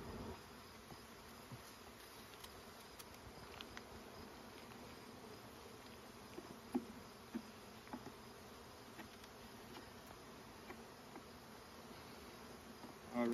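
A dense, steady hum of honey bees fills the air around an opened brood box in a hive in Ontario, a continuous close buzzing without talk.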